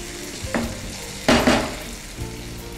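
Food frying in a pan, a soft steady sizzle broken by a few sharp clinks and scraping stirs, close and alone.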